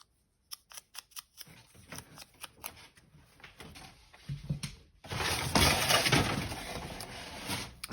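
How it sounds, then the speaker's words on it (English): A dog pulls a roll of packaging paper down from where it was stashed: a quick series of sharp crinkling ticks, then a louder rustling, tearing burst of paper that fills the last few seconds, close and with no talk. "He's just pulled a roll of packaging paper down that I've stashed there"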